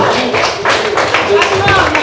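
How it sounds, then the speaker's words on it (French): Applause at a Paris single launch for the Central African Republic: a dense burst of clapping from an audience, loud and close, with voices talking over it. "est-ce qu'on peut l'applaudir encore, s'il vous plaît?"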